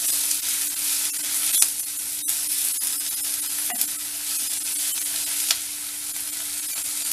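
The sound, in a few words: greens sautéing in a pan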